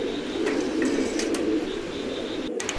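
A pair of Soyabin-breed pigeons cooing close by, soft low throaty coos repeating over a steady background murmur, with no talking.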